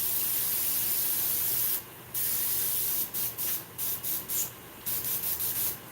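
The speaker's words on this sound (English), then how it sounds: "Open my airbrush all the way, put the carburetor tube in it. Just make sure it's shooting" An airbrush opened fully sprays carburetor cleaner in a shop: a loud, continuous hiss for nearly two seconds, a brief pause, then a longer stretch broken into a series of short, rhythmic spurts, with no one speaking.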